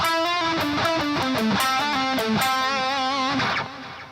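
Distorted electric guitar plays the solo section of a song, a fast run of bright, sustained single notes shifting pitch steadily, loud and close with no talk, cutting off near the end.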